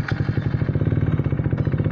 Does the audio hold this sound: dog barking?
no